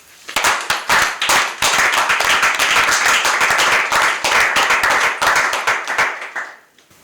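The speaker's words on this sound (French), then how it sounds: "Je demanderai à mes frères qui sont avec moi de les manifester par des grands applaudissements" A group of people gives loud, close applause at a gathering, with dense rapid clapping that starts abruptly, holds steady and then thins out and fades near the end.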